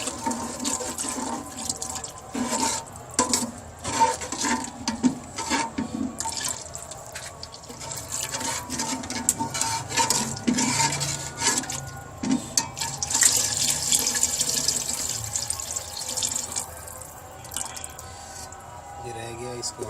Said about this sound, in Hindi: अब इसे ऐसा ऐसा करके इसके अंदर डालेंगे और साथ ही चम्मच हिलाते रहेंगे